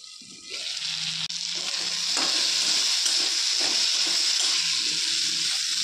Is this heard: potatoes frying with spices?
yes